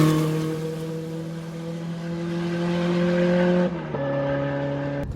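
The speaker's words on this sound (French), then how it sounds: "Le turbo tu l'as entendu se déclencher là." Rally car engine at a Go-Rallye event holding a steady, loud drone, then shifting pitch sharply near the end as the turbo comes in, with no talk over it.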